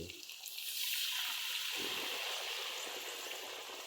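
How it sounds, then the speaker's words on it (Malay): Chili kampung sambal with tamarind water simmers in a pan, giving a steady, close bubbling hiss that swells after a brief start and holds evenly throughout. "Kita tunggu dia melegak sikit."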